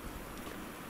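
A distant waterfall and flowing water in the survival game The Long Dark form a faint, steady, even rushing wash with no other sounds.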